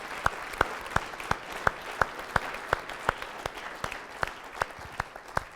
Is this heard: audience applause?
yes